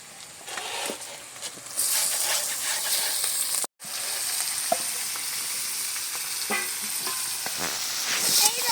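Chicken pieces sizzle and fry steadily with spices in a hot pan, a loud continuous crackle broken once by a brief pause, with occasional stirring scrapes and no talking.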